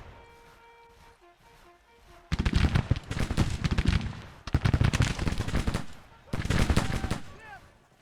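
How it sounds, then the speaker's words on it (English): Musket volleys crackle in Grand Tactician: The Civil War, bursts of dense rapid gunfire in three loud clusters separated by short lulls, after a quieter opening with faint tones. "It looks like Delco's Fencibles are going to get the first shots out."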